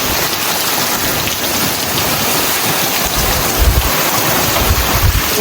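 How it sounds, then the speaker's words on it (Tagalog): Heavy rainstorm in Canada with typhoon-like force: a loud, dense, steady downpour roars close by, with low rumbling gusts swelling near the end. "Pero grabe yung ulan, no?"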